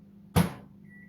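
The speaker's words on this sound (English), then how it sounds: "I'm going to pop that into my microwave oven for about 11 or 13 minutes." A microwave oven door thumps shut in a kitchen, one short dull knock followed by a faint high beep as the oven starts.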